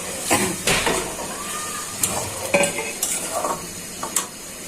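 Fried eggs go into a spiced curry gravy in a pan and get stirred, a few scraping clinks of a spoon against metal over a faint sizzle, close and fairly loud, with no talking.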